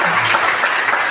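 Church congregation applauding the Lord, a dense, steady wash of many hands clapping at close range, filling the short moment without a break.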